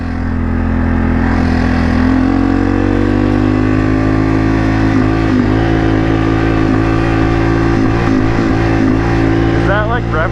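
A four-wheeler ATV's engine revs loud and close, holding a high, sustained drone that wavers and bounces as it hits the rev limiter.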